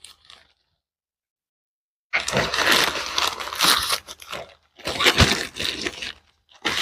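Plastic bag crinkling and rustling as a soil testing kit is slid back inside it, coming in loud, close bursts after a quiet pause at the start, with a short gap before the last stretch.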